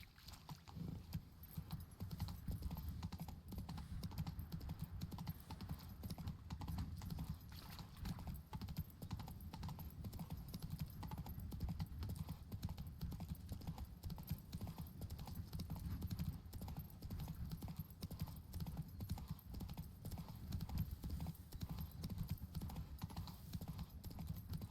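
Roach, the horse from The Witcher 3, trots on with continuous, even clip-clop hoofbeats for the whole stretch. The hooves stay close and steady over a low rumbling game ambience.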